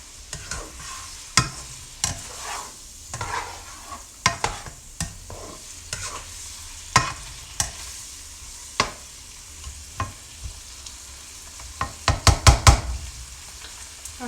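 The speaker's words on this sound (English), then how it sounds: "Okay, so got to stir this pasta again." Pasta being stirred as it fries in a pan, with a soft sizzle underneath and a steady series of scraping knocks from the utensil, ending in a quick cluster of strikes.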